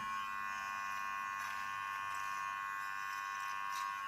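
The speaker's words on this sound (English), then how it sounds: "You can see this thing is shaving." A Brio Beardscape Blackout limited-edition electric beard trimmer runs steadily, giving a continuous, fairly quiet high-pitched motor buzz with no talking over it.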